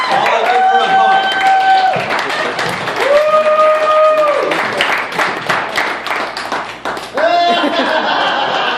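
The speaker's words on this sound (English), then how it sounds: "I'd like everyone to give my sister a big round of applause" Live comedy club crowd in Ft. Smith, Arkansas, clapping loudly for a performer's relative, with steady applause mixed with laughter and whooping voices over roughly nine seconds.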